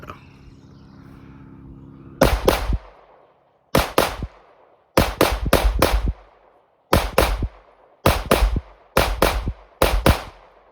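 A handgun firing PMC Bronze ammunition cracks out in close, loud shots, mostly in quick pairs and short strings separated by brief pauses, with a low hum before the first shot.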